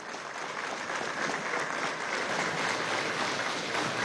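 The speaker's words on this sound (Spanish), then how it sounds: "quiero pedir un fuerte aplauso a la Fuerza Armada Nacional" Steady, dense applause from a crowd at a Venezuelan electoral-authority event, honoring the Bolivarian National Armed Forces; even and sustained through the whole stretch with no speech on top.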